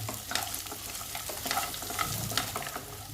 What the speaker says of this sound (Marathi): आता व्यवस्थित 3 ते 4 मिनिट परतून घेऊयात.